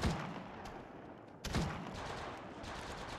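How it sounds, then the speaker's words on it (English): Two sharp gunshot bursts in the Apex Legends Mobile game, each followed by a fading rumbling tail, moderately quiet with no talk over them. "They're shooting at me!"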